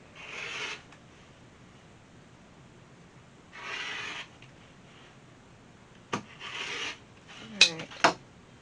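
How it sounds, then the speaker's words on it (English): A rotary cutter slices fabric scraps into strips for a Halloween wreath with three separate rasping passes, each close and lasting under a second. Quieter clicks and handling sounds of the tool follow. "I'm going to use my rotary cutter and just make some strips here"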